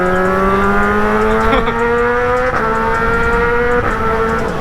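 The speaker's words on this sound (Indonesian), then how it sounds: "Motor tuh backfire mulu" A sport motorcycle, one of a pair of ZX bikes, revs loudly and steadily with rising engine pitch, with a few brief sharp breaks that could be backfire pops, close to the listener.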